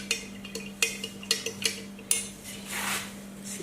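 A metal spoon clinks against a glass while stirring coffee syrup and condensed milk into a sweet iced coffee, giving sharp irregular taps followed by a softer swirling rub, close and clear over a steady low hum.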